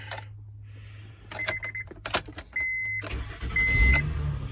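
Several clicks and clunks, then the engine of a 2009 Honda Pilot with a replaced alternator cranks, catches and settles into a steady running hum.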